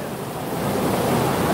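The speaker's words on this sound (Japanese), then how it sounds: "この雨やばいな、マジで。" Torrential rain pours down in Niigata, Japan, falling like a waterfall in a loud, dense, steady roar that swells slightly and continues without a break.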